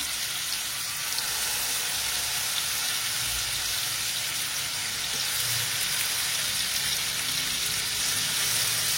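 Chicken pieces frying in butter in a pan, a steady broadband sizzle holding at an even level throughout with no voices.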